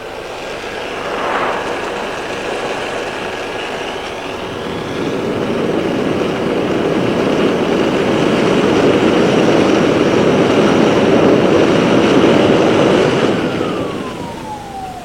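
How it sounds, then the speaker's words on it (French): A high-speed air jet blasts steadily between two spheres in a classroom fluid-dynamics demonstration, a loud continuous roaring hiss that builds and holds for several seconds before easing, with a faint whine running through it. "nous faisons passer un jet d'air à grande vitesse"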